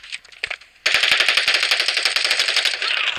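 Rapid automatic gunfire in the mobile shooter game Standoff 2, a couple of short shots followed by a loud, sustained burst of fast, evenly spaced rounds, close and dominant.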